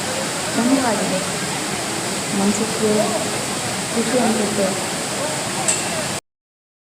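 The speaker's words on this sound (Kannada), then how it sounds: "ನೋಡಿ ಹೇಗೆ ಹಾಲಿನ ಥರ ಬೋರ್ಗರಿತಾ ಇದೆ" Vibhuti Falls roars with a steady, close rush of cascading water, the broad hiss continuing under a person talking, then cutting off abruptly near the end.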